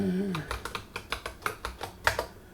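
A command being typed on a computer keyboard, a quick run of about a dozen close key clicks, with a brief voice at the start.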